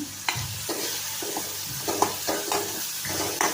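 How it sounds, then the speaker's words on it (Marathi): Potatoes stir-fry in oil in a pan, a steady close sizzle punctuated by repeated scraping and clattering strokes of a spoon as the pieces are tossed, no speech. "छान असं परतून घ्यायचं तेल सुटेपर्यंत"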